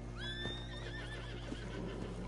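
A horse whinnies in the video game Red Dead Redemption 2, one clear drawn-out neigh that tails off over a low steady background hum.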